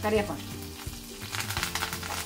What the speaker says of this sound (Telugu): కరివేపాకు వేసినప్పుడు పట్ట కుడుతుంది